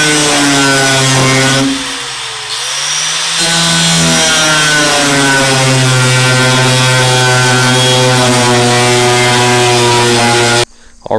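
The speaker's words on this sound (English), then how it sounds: "We got a wire wheel, or a cutting wheel, little power tool, and we're gonna buzz them off there" A loud, continuous whine of a small power cutting wheel grinding off metal welds on a duck hunting boat, with a brief dip in pitch midway before running steadily again.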